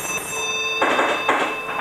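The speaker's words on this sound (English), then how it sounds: "the semaphore signal responds and the train departs the station" A 1980s train pulling out of a Grimsby station gives rhythmic wheel clatter and metallic squeal in repeated bursts, close and fairly loud over a steady rail hum.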